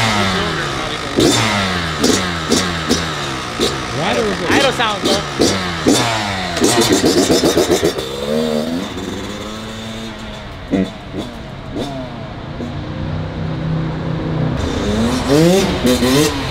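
A tiny 2021 Kawasaki KX85 dirt bike engine, still needing warm-up to stay running, blips and revs in quick repeated bursts between rougher running, loud and close, with voices around it.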